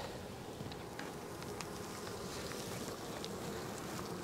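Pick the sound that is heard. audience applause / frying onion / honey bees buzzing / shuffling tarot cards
honey bees buzzing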